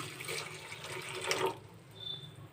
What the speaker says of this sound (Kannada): ಅರ್ಧ ಲೋಟದಷ್ಟು ನೀರು ಹಾಕೊತಾ ಇದ್ದೀನಿ ನಾನು.